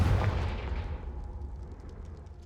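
Confringo fire spell blast in Hogwarts Legacy, a single deep booming explosion that hits hard at once and then rumbles and decays away over a couple of seconds.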